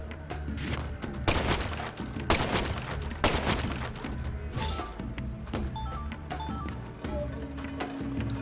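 Gunshots in the video game Deadly Premonition 2, a series of sharp, loud bursts at irregular intervals over a dense, busy game soundscape with music.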